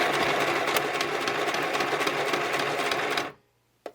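A sewing machine stitches a running stitch with a steady, fast mechanical whir, close and loud, before stopping abruptly, followed by a single small click in the quiet.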